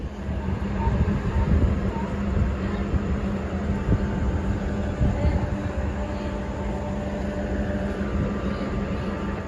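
Constant low rumble and rattle inside a passenger train coach, C11, rolling steadily with no breaks, loud and close.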